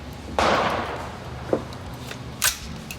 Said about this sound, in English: this time we're gonna be shooting for headshots